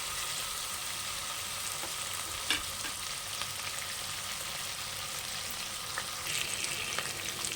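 Mixed vegetables frying in oil after tomato for vegetable pulao, giving a continuous soft hiss and crackle with a few faint clinks, fairly quiet and without speech.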